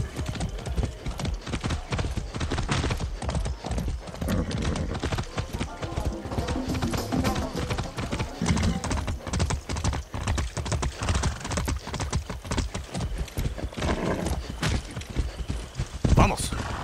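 Horse hooves clip-clopping in the video game Far Cry 6, a fast continuous run of close hoof beats with occasional snorts, while a voice speaks over them.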